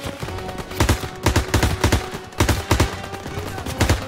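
Machine gun fire in Call of Duty WWII, rapid bursts of heavy automatic shots repeating every second or so, loud and close, with a low rumbling battlefield din between bursts.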